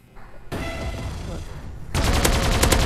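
Gunfire from the shooter video game Assault Bots, loud continuous rapid bursts that grow denser and harsher toward the end, with a player's voice faintly mixed in.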